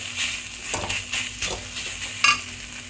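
Thor ghanto, a Bengali vegetable curry, is stirred in a pan, giving soft scraping and shuffling strokes over a gentle sizzle, with a brief metallic clink near the end.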